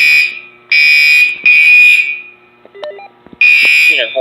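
A building fire alarm sounds in loud, sustained tonal blasts with short gaps between them, broken by a burst of radio chatter.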